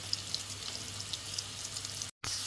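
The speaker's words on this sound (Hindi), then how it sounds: "मैं प्याज को 3 से 4 मिनट के लिए अच्छी तरह सौते कर लूँगी" Chopped onions sautéing in hot oil for a chicken Alfredo pasta, giving a steady, soft, close sizzle with faint crackles and a brief dropout near the end.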